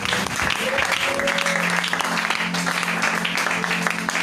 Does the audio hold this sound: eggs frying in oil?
no